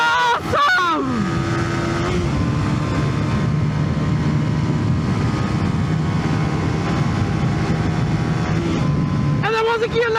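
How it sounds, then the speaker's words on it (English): A 125cc motorcycle held at full throttle, its engine droning steadily and loudly close by before bouncing off the rev limiter near the end, with a rider's voice talking over it. "Now I go full throttle. It goes. Now limiter."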